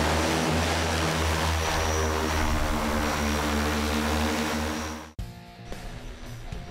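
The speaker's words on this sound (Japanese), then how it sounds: "ドローンが飛んでいるのは田んぼの上。" An agricultural drone flying over a rice paddy gives a loud, steady propeller drone with a strong low hum, which cuts off abruptly near the end and leaves a quieter mix of fainter sounds.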